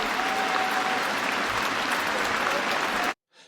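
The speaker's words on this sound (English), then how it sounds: "And the crowd just giving waves and waves of applause." Cricket crowd applauding a magnificent moment with everyone on their feet, a dense, sustained wash of clapping that holds steady for about three seconds before cutting off abruptly.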